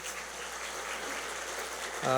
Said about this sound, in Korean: 잠깐 일어나시면 우리가 박수로 위로의 뜻을 표하겠습니다.